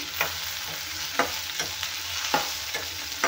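Twelve dried red chilies roast in a pan for a tomato and onion chutney, giving a steady sizzling hiss broken by a few sharp spatula scrapes at uneven intervals, with no talking.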